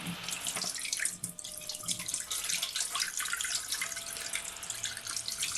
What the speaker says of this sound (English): Let's remove the water.